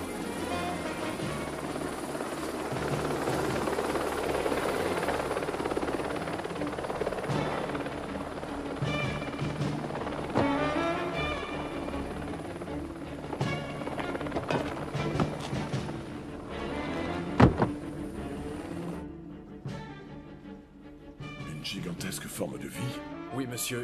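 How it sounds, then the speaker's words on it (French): A helicopter's rotor chops and whirs continuously at a moderate distance, with mechanical clatter and a sharp bang partway through. "Peut-on me dire ce que fait un hélicoptère de la presse dans cette zone?"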